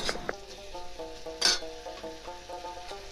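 Mustard paste frying in a pan for a fish curry with roselle leaves, a soft steady sizzle with a sharp clink of a utensil midway and faint stirring.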